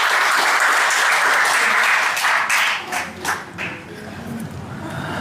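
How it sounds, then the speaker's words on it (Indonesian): An audience bursts into sustained applause at a talk or gathering, dense clapping filling the room before thinning out and fading toward the end. "Tepuk tangan buat Kang Abu."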